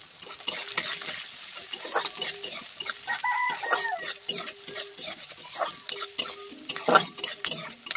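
Onion and garlic frying in oil in a wok, a close sizzle broken by repeated scraping stirs of a metal spatula against the pan, with clinks and bursts of hiss.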